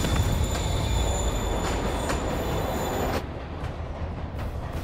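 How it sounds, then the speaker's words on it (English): A train moves through a station in Marvel's Spider-Man Remastered, a loud, steady rail rumble with high squealing wheel tones that eases slightly partway through. "Train's moving."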